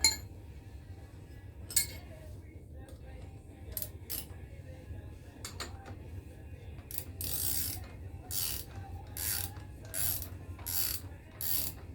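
Nut being tightened during assembly of a 2025 RPS Hawk 250 DLX motorcycle, with scattered metallic clicks and then a run of quick, close ratchet bursts in a fairly quiet room.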